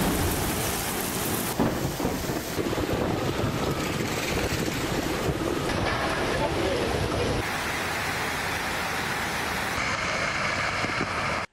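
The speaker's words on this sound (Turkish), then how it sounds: "Sağanak yağışla birlikte fırtına koptu. Şimşekler çaktı, yıldırımlar düştü." A heavy thunderstorm pours over Istanbul, dense rain hissing loudly with wind buffeting the microphone and thunder rumbling beneath, a constant roar that shifts in intensity partway through.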